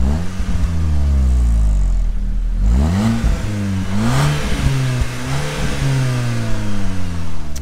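An Audi S3 TFSI car engine idles roughly, then is revved several times in quick succession, rising and falling pitch, loud and close with no voices.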